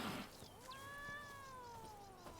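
A cat meows in the video game Witcher 3, one clear drawn-out meow, falling slightly in pitch, heard alone over faint ambient game background.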